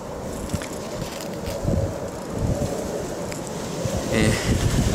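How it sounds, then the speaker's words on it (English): Gusty wind buffets the microphone outdoors in a hot pepper garden, a low rumbling roar that swells and eases in uneven puffs without any speech. "excuse the wind, it's going crazy right now"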